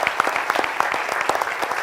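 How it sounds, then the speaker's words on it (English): Audience at a Shark Tank-style pitch event applauding a judge: dense, continuous clapping from a crowd, fairly close and steady throughout. "So please give her a round of applause."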